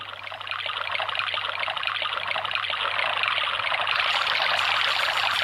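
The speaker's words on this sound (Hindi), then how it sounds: "नदी का प्रवाह शीघ्रता से उमड़ता जा रहा है।" River water flows in a strong, continuous rushing stream, steady and fairly loud throughout, heard as a sound effect during a Ramleela stage performance of the Shravan episode.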